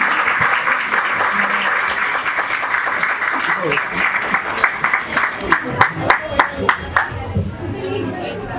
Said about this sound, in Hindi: असलम के लिए जोरदार तालियां बजा दीजिए।